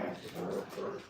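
Several Brittany puppies yip and bark at close range in a continuous noisy jumble, with whimpers and small growls mixed in.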